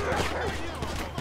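Gunfire in the video game GTA 5, with police trading shots with gang members in a street fight, heard as scattered sharp bursts amid game noise and background chatter.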